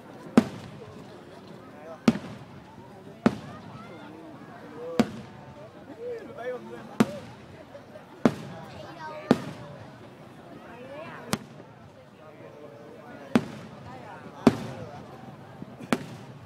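Fireworks for the 2015 Year of the Goat lunar New Year's Eve in Vietnam, a string of sharp, fairly distant bangs arriving every second or two, with crackling and the murmur of a crowd between them.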